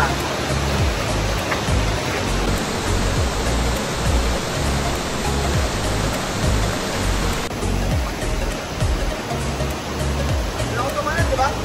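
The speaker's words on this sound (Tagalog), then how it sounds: "Dito na tayo sa falls ng Aurora." Ditumabo Falls in San Luis, Aurora, a waterfall giving a loud, steady, broadband roar from close by, with people talking faintly beneath the rush.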